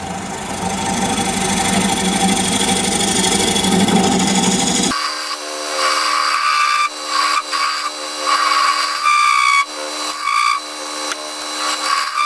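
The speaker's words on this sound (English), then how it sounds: "Recess it is, and for that I'm going to use a 1/2 inch bowl gouge." A 1/2 inch bowl gouge cuts a recess into a spinning piece of wood on a lathe: a loud rough scraping over motor hum, then a lighter rasping with intermittent bursts as the tool bites and lifts.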